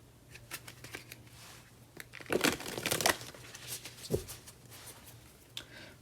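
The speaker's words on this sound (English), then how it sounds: "let me shuffle just a tad bit" Close papery riffling and crinkling of cards being shuffled, several uneven bursts with a louder flurry in the middle, no talking.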